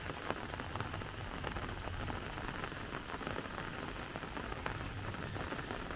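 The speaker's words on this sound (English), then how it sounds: "If it carries on raining like this" Heavy rain falls steadily over a creek outdoors, a dense constant hiss of drops with scattered close splatters and no voices.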